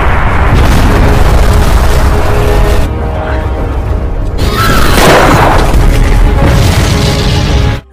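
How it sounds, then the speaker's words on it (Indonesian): A flamethrower tank explodes inside a graboid in the Tremors film, giving a loud, sustained roaring blast with deep rumble that briefly dips and then surges again before cutting off. "membuat tabung pelontar api itu meledak setelah dimakan oleh graboid tersebut"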